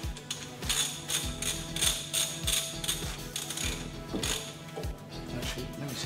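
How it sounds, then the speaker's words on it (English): A hand ratchet tightens a bolt on a Mazda MX5 NB while resealing, giving close, steady rows of quick clicking pawl strokes in rhythmic bursts with brief pauses between swings, no talking. "So the tool's now on. I can now tighten up this bolt."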